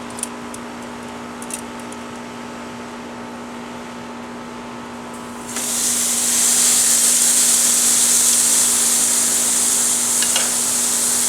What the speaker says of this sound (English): So now we are going to put our fajita meat on the grill.